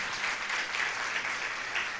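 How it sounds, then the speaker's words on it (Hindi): A gathering at a Jain religious discourse claps loudly for its committee, a continuous close wash of applause that holds steady throughout. "एक बार अपनी कमेटी के लिए जोरदार तालियां बजा दीजिए।"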